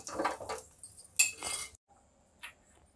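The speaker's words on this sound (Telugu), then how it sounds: "ఇలా దోరగా వేగిన క్యాషు ద్రాక్షని మనం చేసి పెట్టుకున్న" A metal spoon clinks and scrapes against a pot while fried cashews and raisins are stirred into jaggery rice, with a few sharp clatters, then a brief pause and one more light clink.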